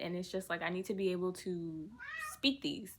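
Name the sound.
cat meowing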